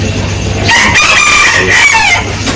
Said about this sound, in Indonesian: karena ayam sudah berkokok di rumah saya sehingga mengganggu apa yang saya sampaikan